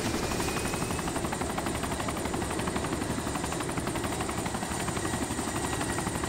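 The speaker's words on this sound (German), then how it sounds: "Ich finde den Heli hier also tausende Male besser als der." A helicopter in the DayZ video game drones loud and steady with a continuous rotor thrum and engine whine throughout, close up and without any break.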